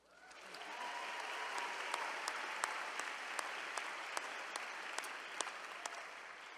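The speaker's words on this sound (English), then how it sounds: "let's get another round of applause for you." Sustained applause from a commencement audience honoring graduates at a UC Berkeley ceremony, a dense steady wash of many hands clapping with a few sharper claps standing out, fading in at the start and holding evenly throughout.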